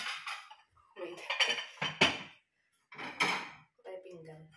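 Dishes, plates and cutlery clink and clatter in bursts in a home kitchen at breakfast time, with short pauses between and a voice nearby.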